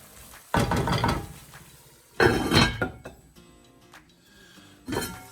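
A metal lid set back onto a cooking pot of simmering Goan fish curry base, heard as three separate clattering clinks, close and fairly loud, with quiet kitchen sound between them.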